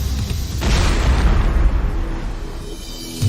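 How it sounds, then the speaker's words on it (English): Two-stage rockets roar as they propel an aircraft down a 300-foot-long sled track toward a concrete wall, a loud, sustained, rumbling blast lasting several seconds. "Two-stage rockets propel the aircraft down a 300-foot-long sled track."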